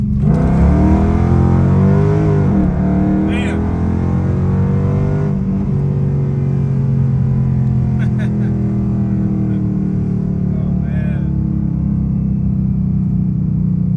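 A 2011-2014 Dodge Charger's engine drones loudly and steadily while the car is driven, and it rises in revs early on as someone talks over it.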